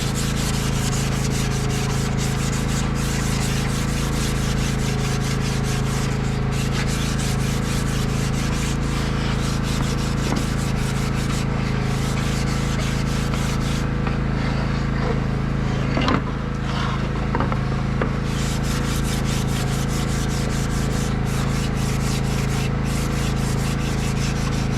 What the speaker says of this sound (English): I'm gonna just use this little piece of sandpaper.